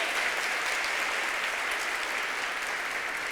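A church congregation applauds, a dense, steady wash of clapping from many hands that holds at an even level throughout, with no voices on top.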